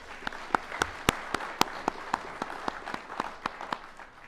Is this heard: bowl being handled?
no